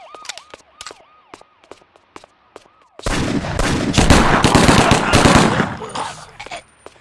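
Rapid machine-gun fire in the Xbox game 25 To Life: a warbling siren with sharp pops at first, then a sudden loud, sustained burst of dense automatic shots.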